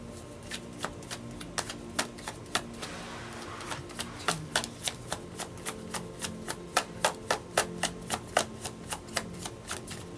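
A tarot deck is riffled again and again in a quiet room, the crisp card flicks landing in a fast, steady run of sharp clicks that carries on with no talking.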